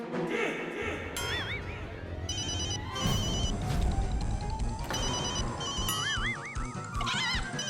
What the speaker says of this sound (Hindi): अगर वो चोरी नहीं हुआ है तो घंटी बजेगा।